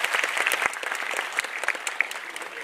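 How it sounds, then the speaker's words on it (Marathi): An audience claps for a recited poem at a Marathi poetry program. The individual hand claps are crisp and uneven, forming a moderate ripple of applause that stays fairly close throughout. "सगळं पाचपोळांसाठी जोरदार टाळ्या वाजवूया"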